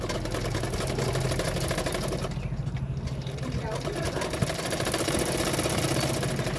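A sewing machine stitches a katori blouse cup with a half-inch margin, running in a fast, steady mechanical rattle with a brief lull partway through.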